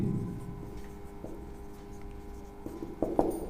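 Pen scratching across paper while a class 10 board maths problem on a triangle is worked out, soft intermittent strokes close by with a couple of firmer marks near the end, no talk.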